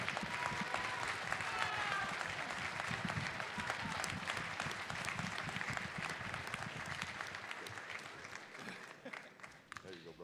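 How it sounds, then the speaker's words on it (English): Audience applause at a debate championship and awards event, a dense steady round of clapping from a large crowd, with a few voices in the background, gradually tapering toward the end. "Please give Mark Havner and David Smothers a round of applause."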